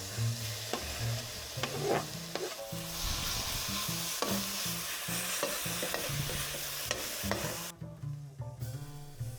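Stinging nettles frying in a pan with quickly roasted spices and garlic ginger chili paste, a steady close sizzle with repeated stirring and scraping clatter throughout.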